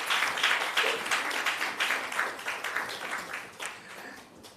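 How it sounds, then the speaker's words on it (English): Applause from a conference audience at a health research awards ceremony, a dense patter of many hands clapping steadily across the whole stretch, fairly distant, with a faint voice underneath. "Now is the time to clap, by the way."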